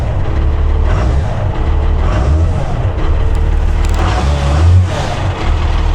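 A Cummins-swapped Ford F350 diesel truck running close by, a loud, rough low-pitched rumble with slight swells in engine speed throughout.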